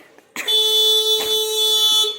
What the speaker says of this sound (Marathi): बापरे असा हॉर्न वाजवत आहे